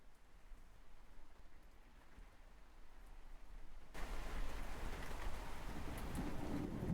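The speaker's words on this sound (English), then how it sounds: "So basically it's rain with some sound effects." Steady rain on a surface as a sound effect, an even wash of hiss that suddenly thickens and grows louder about halfway through, continuing dense and close with no voices.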